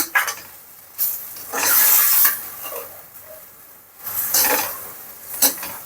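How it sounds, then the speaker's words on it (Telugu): Gongura chicken pickle frying in oil over high flame with salt just added, stirred hard with a spoon: loud bursts of scraping and sizzling come in waves against the pot, with quieter gaps between them. "నేను ఒక స్పూన్ యాడ్ చేసుకొని బాగా కలిపేసుకుంటున్నాను"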